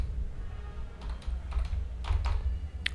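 A few quick bursts of keystrokes on a computer keyboard while a prompt about traditional biryani is typed, light clicks in short clusters over a soft low hum, close and fairly quiet.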